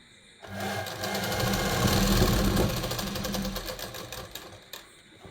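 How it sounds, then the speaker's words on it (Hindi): A sewing machine stitches a gents kurta, starting after a brief quiet moment and running loud and close with a rapid, steady chatter. The stitching then tapers off into a few final clicks. "सिलाई लगाते लगाते इस तरीके से एक तरफ से सिलाई लगाते लगाते जाना है, फिर वापस आना है।"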